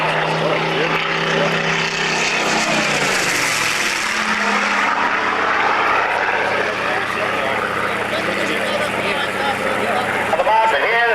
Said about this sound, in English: flying the photographic reconnaissance Spitfire 19